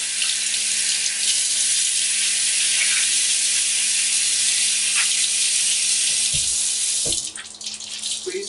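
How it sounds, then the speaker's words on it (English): Water from a sink tap runs steadily while a palette sponge is washed with dish detergent, a continuous hiss with occasional squishing thumps and a shift in the flow near the end. "take them over to the sink, squirt in a little bit of detergent, dish detergent, kind of just refreshing your sponge."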